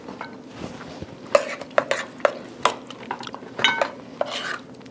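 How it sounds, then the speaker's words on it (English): Food spooned from a pan onto a plate during holiday dish preparation, with a series of sharp utensil clinks and scrapes against cookware at close range, no talking. "I like to spoon a little bit in the plate."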